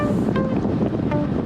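Strong wind buffets the microphone while cycling fast in a rotating paceline on a rolling road, a continuous loud rushing roar with no voices.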